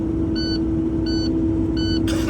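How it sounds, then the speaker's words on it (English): A truck's low air pressure warning beeps three times in a steady rhythm over a loud, constant idling engine rumble, with the beeps spaced evenly and close by. "Anytime you start the truck, you hear this noise, this is beeping. That means you don't have enough air to move the truck."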